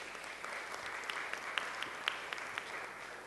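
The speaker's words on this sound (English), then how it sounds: "Round of applause for the seniors." Applause for graduating college seniors at a deaf awareness event at Augustana, a steady moderate patter of many hands with a few sharper individual claps standing out, heard from a middle distance.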